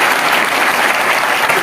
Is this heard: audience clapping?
yes